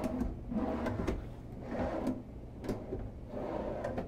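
Large bathroom drawers sliding open and shut in a 2022 Newmar London Aire 4589 motorhome, a run of soft rolling slides with light knocks repeating several times, close and fairly steady.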